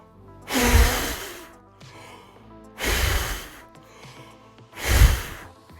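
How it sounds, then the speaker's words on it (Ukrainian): Three loud, close breaths in a breathing exercise, each a deep inhale followed by a sharp, forceful exhale through the nose, spaced about two seconds apart with quiet gaps between. "Виконуєш глибокий вдих і різко видихаєш."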